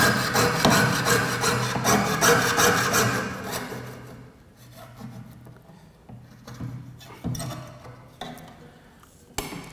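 A small piece of metal is cut for making a jewelry medal, giving loud, steady back-and-forth rasping strokes close by that fade to quieter, intermittent scraping and a final sharp click.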